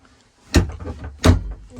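A small curved cabinet door aboard a 1987 Liberty 28 yacht gives two close, sharp wooden clunks about three-quarters of a second apart, with a faint rattle between them.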